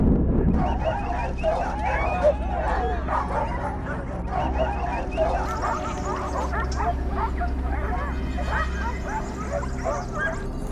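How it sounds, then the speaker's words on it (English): A pack of hunting dogs barks and yips continuously in a snowy forest, many overlapping voices at varied distances with whimpers mixed in, over a low wind rumble. "Their relentless barking echoes through the forest, signaling to their masters that more targets are near."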